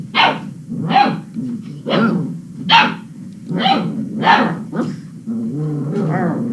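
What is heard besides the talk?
puppies barking and whimpering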